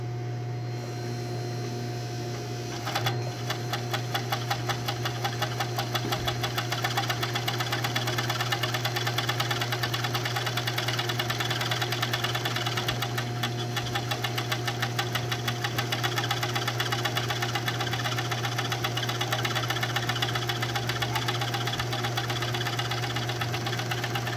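An overlock serger sewing machine running without its cutting blade, a steady close mechanical hum with rapid rhythmic needle knocking that starts after a few seconds and continues evenly throughout.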